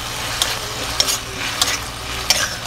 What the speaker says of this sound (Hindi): फिर हम आलू डाल के और इसको भी 2 मिनट तक चलाएंगे ताकि अच्छे से मिल जाए